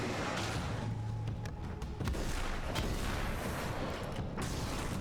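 A shotgun in Alan Wake's American Nightmare goes off in a couple of sharp, close blasts over steady rumbling game ambience, with no talking.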